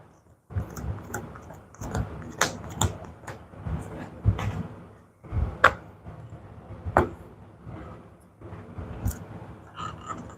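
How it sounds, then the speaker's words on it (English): House of Gaul cards being shuffled by hand at a board game table: a string of close, crisp papery riffles and bursts in quick uneven clusters, with short pauses between shuffles. "Just shuffling House of Gaul cards."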